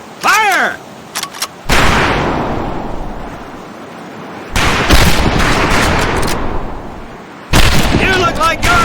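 Rifle gunfire at targets in the video game Medal of Honor Pacific Assault: loud sharp shots with long rolling echoing tails, several separate blasts spaced a few seconds apart, with a short burst of spoken voice at the start.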